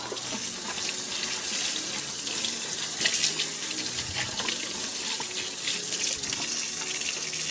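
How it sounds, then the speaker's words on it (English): Tap water runs steadily over the leaves of a Monstera Albo houseplant being rinsed of dust, a continuous close splashing hiss with small fluctuations as the stream hits foliage. "I'm gonna give her a rinse off just to get some of the dust off of her leaves"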